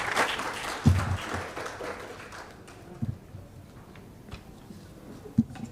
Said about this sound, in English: Ladies and gentlemen, a hand of applause to Mr.